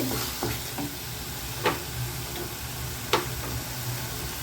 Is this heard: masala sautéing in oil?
yes